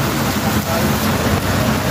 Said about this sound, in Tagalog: sobrang lakas ng ulan dito ngayong alas 4:30 ng hapon